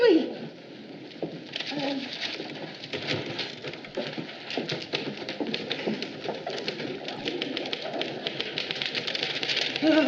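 Typewriter keys clacking in an office, a rapid, steady stream of close mechanical taps that runs the whole time and grows a little busier toward the end.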